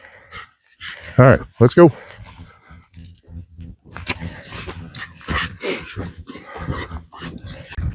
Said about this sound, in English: Heavy breathing as a dog.